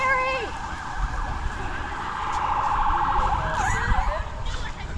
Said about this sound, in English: They just love the siren.